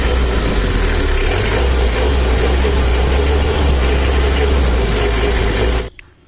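A tuned Mitsubishi L300 engine running steadily with a dry, dense low rumble, loud and close, holding constant for about six seconds before cutting off abruptly.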